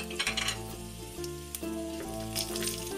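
Cumin seeds sizzle in hot ghee in a kadhai over a gas flame, a steady frying hiss running throughout beneath louder, sustained background music.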